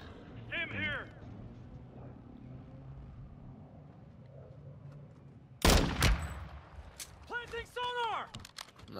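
Gunfire in the Warzone video game: a sharp, loud burst of shots erupts midway after a quieter stretch, followed by further rapid shots, with game effects and faint talk around it.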